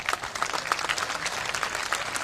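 Applause rings out from a large crowd at a packed political rally in Solapur, a dense, steady patter of many hands clapping at once that continues for a couple of seconds.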